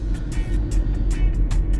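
An Audi A4 B TDI on the move gives a steady low engine drone with road and tire rumble, heard from inside the car, with rhythmic thumps over the road surface.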